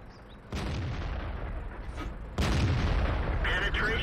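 Two heavy tank cannon shots in World of Tanks, each a loud boom that rolls into a sustained rumble, with a player's voice briefly audible near the end.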